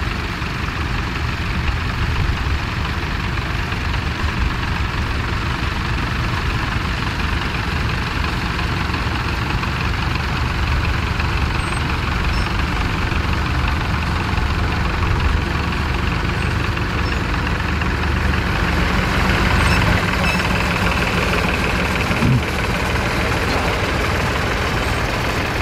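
Vintage tractor engines run steadily at a ploughing match, a continuous low idling rumble with a slight knock, moderately loud throughout with no voices.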